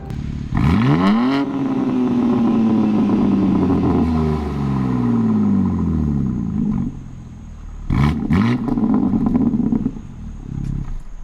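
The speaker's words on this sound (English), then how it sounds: "I will play you guys a little exhaust sound clip." A BMW G80 M3 with a mid-pipe exhaust revs hard several times with a deep, raspy exhaust roar that rises and falls, loud and close, with brief pauses between pulls.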